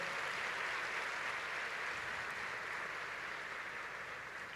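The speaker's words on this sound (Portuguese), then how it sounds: "Quem crê nisso, aplaude a Jesus bem forte." Sustained applause from a crowd at a state youth church congress, a steady dense clapping that holds at an even level and tapers only slightly toward the end.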